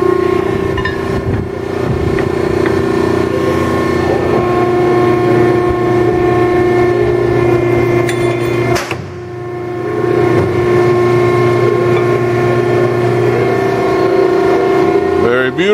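A Uni-Hydro 80 ton hydraulic ironworker shears a 3x3x1/2 inch steel angle: a loud, steady hydraulic hum with tonal whine runs throughout, broken by one short sharp cut or thump midway.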